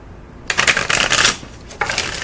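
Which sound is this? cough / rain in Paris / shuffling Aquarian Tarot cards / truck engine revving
shuffling Aquarian Tarot cards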